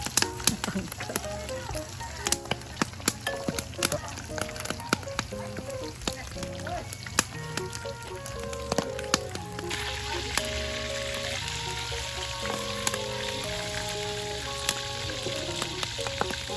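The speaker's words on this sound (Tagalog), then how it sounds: "Basta lang na medyo na fry natin siya" Pork steak frying in a pan gives off a loud, steady sizzle and crackle with scattered pops, close up, thickening partway through, and a voice speaks briefly over it.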